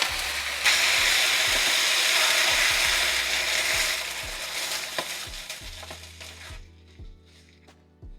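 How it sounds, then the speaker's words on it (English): A 28-ounce can of crushed tomatoes goes into a pan of softened, lightly browned onions for baked ratatouille, giving a loud, close sizzle with stirring clatter that gradually dies down toward the end. "I add the 28-ounce can of crushed tomatoes."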